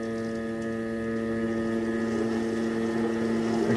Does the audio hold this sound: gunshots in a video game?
no